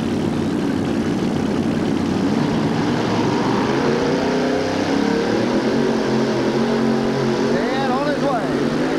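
A monster truck with a big aluminum engine roars continuously during a truck pull at a 1987 USHRA event in Oakland, loud and steady with crowd and arena noise around it and an announcer talking over it.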